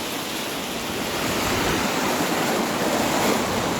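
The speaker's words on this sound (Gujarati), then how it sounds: "પાણીનો પ્રવાહ પણ એટલો છે કે ચાલવામાં પણ તકલીફ પડે" Rushing floodwater flows steadily across flooded village fields and roads, a broad continuous hiss and roar that swells slightly without any break, and no one speaks.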